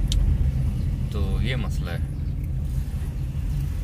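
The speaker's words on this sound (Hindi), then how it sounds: "ट्रैफिक तो रवा दवा है भाई" Low, continuous rumble of road traffic with cars passing nearby, heard under a voice speaking briefly in the middle.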